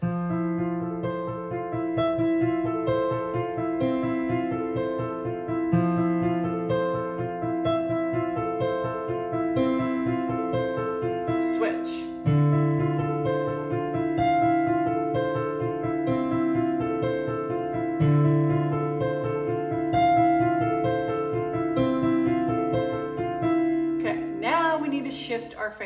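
Piano playing Photograph by Arcade Fire with both hands, a steady rhythmic accompaniment of repeated chords and bass notes sustained throughout, clear and close with no talking.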